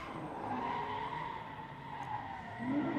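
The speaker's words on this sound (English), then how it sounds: "And there goes the alternating single drifts." Drift cars, including a blue 350Z, slide through alternating single drifts at a motorsport event, tires squealing in a long sustained skid at a distance with engine noise underneath.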